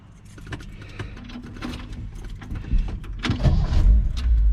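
A 1966 Ford Galaxie 500 with a freshly repaired radiator is started after some key and interior clatter, its engine catching near the end with a low, rising rumble close by.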